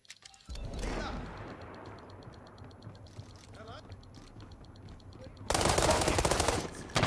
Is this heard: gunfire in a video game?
yes